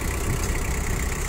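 A Mitsubishi MT-225 mini tractor engine idles smoothly and evenly, a steady close mechanical rumble with no one talking.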